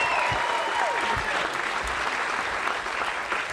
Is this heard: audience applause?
yes